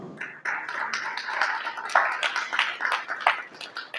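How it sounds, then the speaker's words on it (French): Audience clapping for young performers at a charity gala for underprivileged children, scattered uneven claps building into steady moderate applause for several seconds, somewhat distant. "je vous demande d'applaudir Tissax et Lil Oman"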